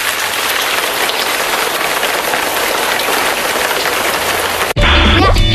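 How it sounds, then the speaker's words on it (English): Dense, steady rain hisses down for several seconds, then a brief burst of a different loud noise follows. "The rain is starting to fall."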